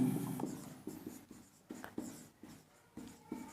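A lecturer writes on a board during a class, producing a series of short scratchy strokes and taps in an irregular rhythm, close and quiet with no talking.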